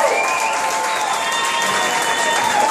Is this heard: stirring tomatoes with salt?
no